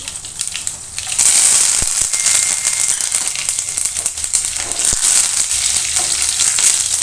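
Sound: dried red chillies, curry leaves and garlic frying in oil

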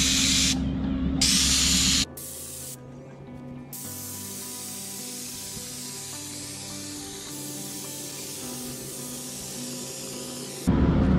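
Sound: spraying Liquid Rubber waterproofing onto a retaining wall

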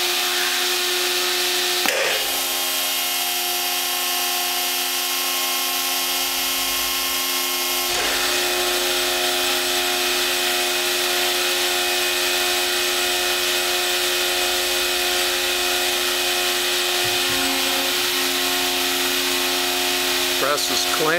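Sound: hydraulic press starting up and running

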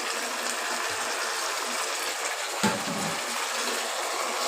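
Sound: water poured from rinsed bowl into pan

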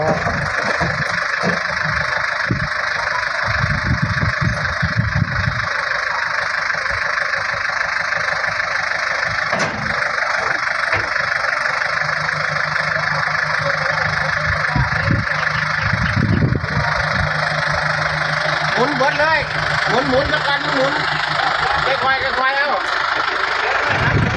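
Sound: truck engine while towing a heavy ten-wheel garbage truck

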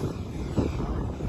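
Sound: E-flite F-16 80mm RC jet taking off

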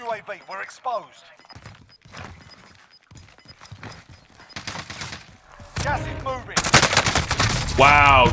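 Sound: gunshots in the video game Call of Duty Warzone

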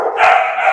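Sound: husky dog barking

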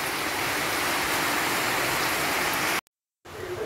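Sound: rain falling in front of a house

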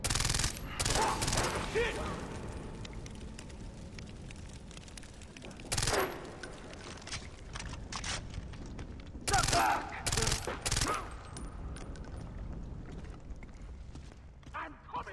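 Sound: gunfire in video game Far Cry 3

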